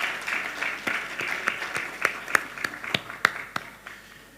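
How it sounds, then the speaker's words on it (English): Sparse, moderate applause from a small audience honouring two speakers at a conference session, individual claps standing out distinctly as it tapers. "So a round of applause to Alicia and Professor Deborah."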